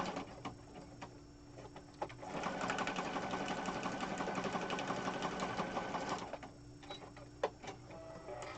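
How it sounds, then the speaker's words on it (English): A sewing machine stitches through paper scraps for a junk journal, a fast rattling whir lasting about four seconds, framed by quieter clicks and handling sounds before and after. "I like sewing on the papers"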